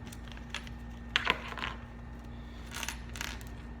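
Small metal axle parts for a Robart 594 wire strut kit clink and rattle as their bag is opened on a workbench, with a cluster of bright jingles near the start and another burst later over quiet room noise.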